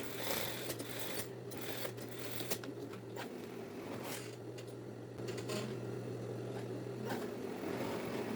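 An overlock sewing machine runs continuously, finishing curved seams on fabric for a women's lab coat, with a steady mechanical whir and rapid stitching chatter that pauses and surges slightly.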